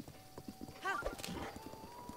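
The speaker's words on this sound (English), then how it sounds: "The horse actually seems like it might be faster." Hooves clip-clop rhythmically as a horse runs in Zelda Breath of the Wild, with a brief whinny partway through and faint talk underneath.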